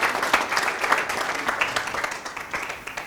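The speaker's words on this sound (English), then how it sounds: "Can we get a clap?" Conference audience in a room breaks into a short burst of clapping, sharp individual claps blending into moderate applause that tapers off near the end.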